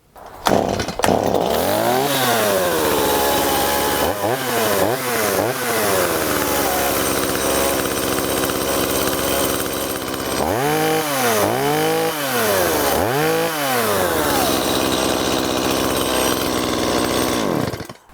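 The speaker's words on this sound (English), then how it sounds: "What I will do is start it up, run it for like 30 seconds or so" A STIHL MS170 chainsaw runs steadily and loudly for the whole stretch after a bar and chain replacement, its engine revving up and back down several times in clustered bursts over a constant idle drone.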